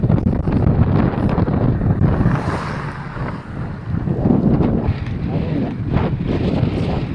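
Strong wind buffets the microphone while riding an e-bike, in loud, gusty roars that rise and fall throughout, with no voices.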